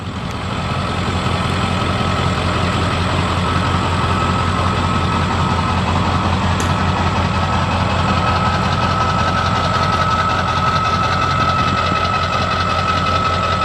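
A 1995 Ford F350 with a 7.3 liter Power Stroke turbo diesel runs at a steady idle, loud and close, with a continuous low knocking rumble and no talk.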